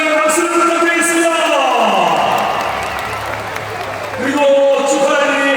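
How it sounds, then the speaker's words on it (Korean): A stadium crowd applauds and cheers Daegu FC player Hwang Jae-hwan after a match against Chungnam Asan FC, a broad wash of clapping under a loud announcer's voice throughout. "황재환 선수의 박수를 부탁드리겠습니다"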